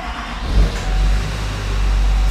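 A diesel Chevrolet Silverado 2500 pickup cranks and fires up, settling into a loud, steady low rumbling idle close by.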